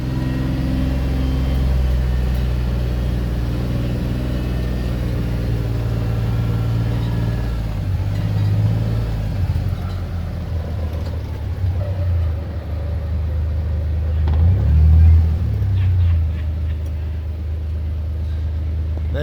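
Steady low outboard engine drone from a small boat on the Mississippi River near Vicksburg, running continuously at close range with a brief swell in loudness toward the end, no voices over it.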